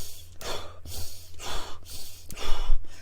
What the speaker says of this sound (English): dragon breath.